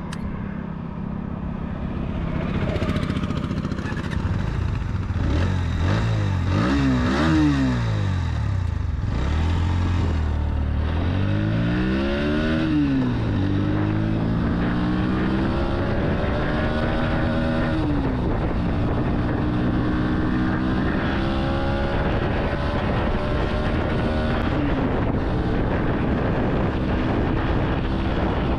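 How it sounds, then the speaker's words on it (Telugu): A 2025 Bajaj Pulsar NS125 motorcycle engine revs repeatedly, its exhaust note climbing and falling in sweeping throttle blips before settling into a sustained, rising drone, loud and close with no talk. "ఫ్రెండ్స్, ఆ రివింగ్ చాలా బాగుంది అండ్ ఎగ్జాస్ట్ నోట్ అయితే మాత్రం థ్రాటిల్ ఇస్తున్నప్పుడు"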